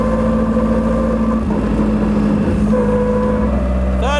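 A 99-year-old Bentley 3 Litre runs loud and close, its engine droning at steady pitch, then shifting lower and climbing again as it revs, with a brief squeal at the end.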